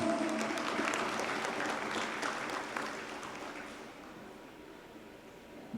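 Steady applause from a crowd at a street birthday celebration, dense clapping that holds strong and then gradually thins and fades toward the end.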